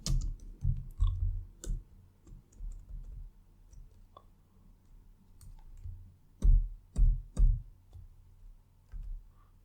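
Sparse clicks of a computer keyboard while a DAX formula is entered, soft scattered taps with a cluster of louder knocks near the end, close and quiet.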